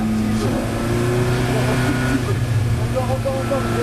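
A Ferrari F430 Challenge race car accelerating on a track, its engine note rising under a man's steady in-car commentary, the revving tone continuous and close throughout.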